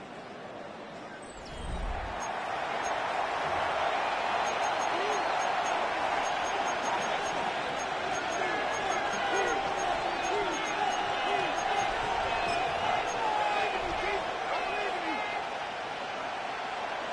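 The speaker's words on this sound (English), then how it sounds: "The crowd making their presence felt." Stadium crowd in an EA Sports NFL game roars in a steady, dense wash of cheering that swells after a quiet start and holds loud throughout, with commentary voices over it.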